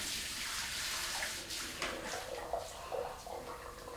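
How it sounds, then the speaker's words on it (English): Cold tap water runs steadily over strained noodles in a sink, a soft continuous splashing hiss with slight changes in the flow partway through. "I'm just running some cold water on some noodles"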